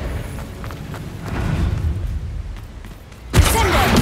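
A Bombarda blast spell in a video game: quiet, murky ambience gives way to a sudden loud, broad burst near the end that keeps roaring as the explosion carries on.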